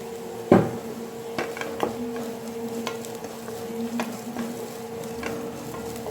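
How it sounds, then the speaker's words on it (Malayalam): A spatula scrapes and stirs crushed ginger and garlic with onions in a pan. One loud clank comes near the start, then intermittent scrapes and taps over a soft background hum. No one speaks. "നമുക്ക് പച്ചമണം മാറാൻ വേണ്ടിയിട്ടൊന്ന് വഴറ്റി കൊടുക്കാം."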